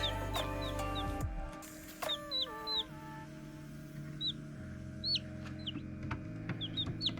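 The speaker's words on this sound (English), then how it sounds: "half Barnevelder, half Golden Laced Wyandotte. Beautiful little baby chick." A newly hatched chick, half Barnevelder and half Golden Laced Wyandotte, gives repeated thin high cheeps in short bursts of two or three, close by over a low steady background hum, with no voices.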